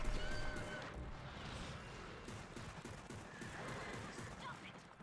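Gunfire from the Xbox game Darkwatch crackles in rapid bursts against a busy, noisy backdrop of game effects, fairly quiet overall.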